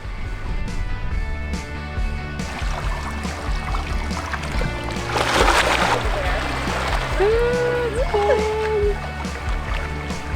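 People taking a dip in cold ocean water off Seguin Island, Maine: continuous sloshing and splashing with a louder surge of water midway, voices chattering over it.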